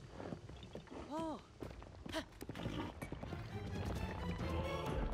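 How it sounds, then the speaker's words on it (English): Hoofbeats of a horse running along a path in Zelda: Tears of the Kingdom, a quick, faint clip-clop under game music and effects, with someone talking over it. "I got a horse."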